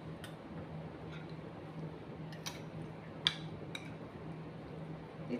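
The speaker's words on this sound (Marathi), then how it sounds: "हे चांगलं असं मिक्स करायचंय।" Prawn batter being stirred with egg white in a bowl, giving faint, intermittent clicks and taps of a utensil against the bowl over a quiet, humming kitchen background.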